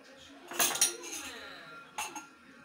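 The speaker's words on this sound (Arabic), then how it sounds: "دابا غنخلطوا النواشف مزيان" A utensil stirs dry ingredients for Moroccan chebakia in a bowl, making a few quick metallic clinks and scrapes in two short bursts at close range, with quiet rustling between them.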